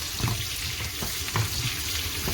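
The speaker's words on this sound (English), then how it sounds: "So I'm frying my shallot" Steady crackling sizzle of shallots frying in a pan for Thai food, with a few soft stirring scrapes, close by and no talking.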